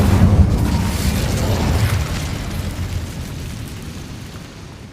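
Incendio fire spell cast in Hogwarts Legacy, a loud roaring burst of flame with a heavy low rumble that slowly fades over several seconds, with no talking.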